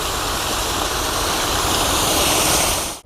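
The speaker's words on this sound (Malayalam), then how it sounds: "അപ്പോൾ നമുക്കടുത്ത് കുറച്ച് പുളിവെള്ളം ഒഴിക്കാം." Tamarind water is poured into a fish head curry, a loud continuous rushing splash that holds steady for about three seconds, then cuts off abruptly.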